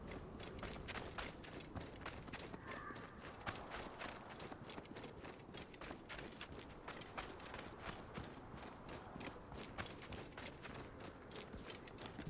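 Horse hooves in the video game Assassin's Creed Origins, a quiet steady run of rhythmic clip-clop beats mixed with creaking tack and mechanical clicks, with no talk over it.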